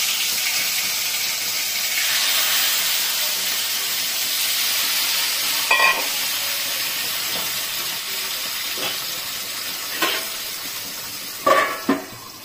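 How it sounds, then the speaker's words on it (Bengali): Pieces of foli fish fry crisp in a pan of oil, a loud continuous hiss and sizzle close by, broken by a few sharper clatters and spits near the end. "আর একইভাবে 3 পিস মাছ ভেজেছি।"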